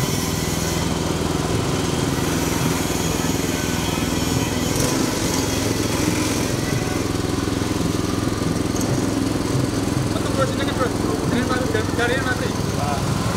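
A cracker dough extruder driven by a screw roller grinds and hums loudly and steadily as dough is fed in, with a person talking over the continuous machine noise.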